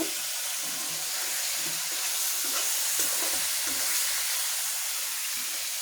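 Fish fried with onion in a pan, a dense steady hiss of oil sizzling close up with faint low stirring thumps underneath, no voices.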